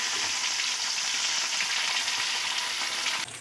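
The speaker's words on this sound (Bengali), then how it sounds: "পেঁয়াজটা একটু ভেজে নেবে" Sliced onions sizzle in hot oil in a pan for a home-style chicken curry, a steady bright frying hiss that holds constant for a few seconds before cutting off abruptly at the end, with no talking.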